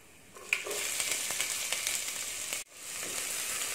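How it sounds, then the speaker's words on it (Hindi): Finely chopped onion frying in hot oil with light-brown garlic for a tomato chutney, a steady close sizzle that dips briefly before picking up again. "प्याज को भी हमें थोड़ा सा भूनना है ताकि प्याज का भी कलर चेंज हो जाए।"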